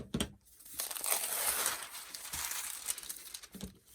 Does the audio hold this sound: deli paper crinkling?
yes